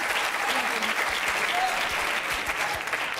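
A television studio audience applauds steadily for the full length, a dense, continuous wash of many hands clapping at close range with no voices standing out.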